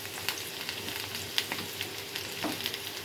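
Ridge gourd peels fry in hot oil, making a soft, continuous sizzle sprinkled with small crackling pops throughout.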